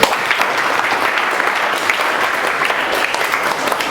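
Steady, dense applause from a school audience of students in a classroom or assembly, continuous and fairly loud throughout with no pauses.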